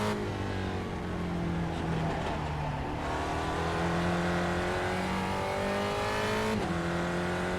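Race car engine in the iRacing simulator, a high revving tone climbing through gear shifts with dips between changes and a brief tire squeal, steady and moderately loud, no talk.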